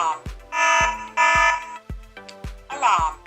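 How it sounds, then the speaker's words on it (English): A Hikvision-style AX Pro wireless alarm system sounds its burglary alarm: loud, close electronic tones in repeated short bursts with sharp onsets, heard alone without talking. "Burglary alarm."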